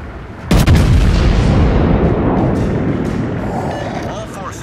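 Artillery fire support in a video game: a sudden, loud booming blast of shelling that rolls into a long, rumbling decay.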